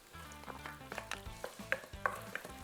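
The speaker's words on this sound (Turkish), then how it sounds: "Şu şekilde hem soğanımı hem de etimi aynı anda atıp kavuruyorum." Onion and meat frying together in melted butter, a steady sizzle with repeated stirring scrapes and utensil clinks, close and moderately loud with no talking.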